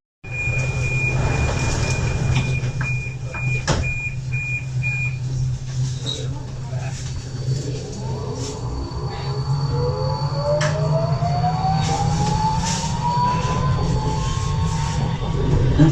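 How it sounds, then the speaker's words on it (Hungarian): A Budapest M4 metro train runs along the line, a loud continuous rumble with a high electronic tone early on and rising motor whine as it accelerates, with brief talk in the carriage. "megyünk az M4-es metróval egyet a Fikáspark-ig"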